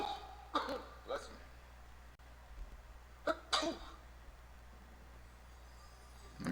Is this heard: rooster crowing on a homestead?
no